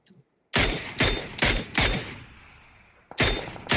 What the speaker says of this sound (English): send some more shots down towards Life